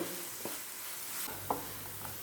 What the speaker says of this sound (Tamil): வெங்காயத்தை நல்லா செவக்க வதக்கிக்கலாம்